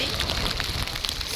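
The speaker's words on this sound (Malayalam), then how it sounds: "അത്യാവശ്യം നല്ല മഴ ഉണ്ട്." Heavy rain falls in a dense, steady hiss with close patter on surfaces, constant throughout the short stretch and with no talk over it.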